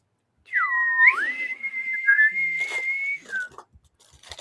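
A person whistles in imitation of a bosun's whistle, a single loud sliding pitch that swoops up and holds a long wavering tone before trailing off, close and alone.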